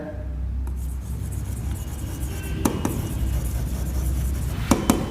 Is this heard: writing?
yes